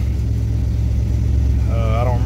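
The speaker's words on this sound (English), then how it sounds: "I'm bringing that idle up a little bit. It is idling." A car engine fitted with a Thermoquad carburetor idles a little high while sitting in park. It gives a steady, loud, low rumble close by, and a voice speaks briefly near the end.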